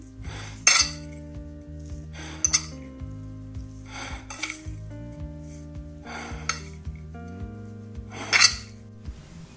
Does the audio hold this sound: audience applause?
no